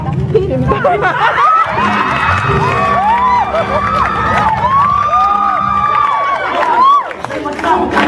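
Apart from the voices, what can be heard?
studio audience applauding and cheering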